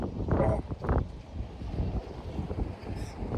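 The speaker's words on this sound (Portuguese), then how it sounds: "levantou-se um vento e é capaz de vir chuva" Gusting wind rushes across the microphone in a steady roar, with a couple of stronger swells near the start, as the wind rises ahead of rain.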